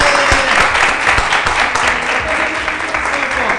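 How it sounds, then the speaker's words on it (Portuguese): Studio audience on the Brazilian TV variety show Pop Show claps loudly and steadily, a thick continuous wash of many hands with some louder individual claps up front, sustained throughout. "Meninos e meninas, aplauso pro comandante."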